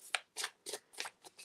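Tarot cards are shuffled in five or six quick, crisp riffling bursts, close and fairly quiet, with no talking.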